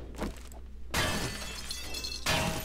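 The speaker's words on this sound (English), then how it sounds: "Oh, you're breaking the wall out back." Zombies smash through a wall in the 7 Days to Die video game, with loud crashing and shattering bursts near the start and again toward the end over constant game noise.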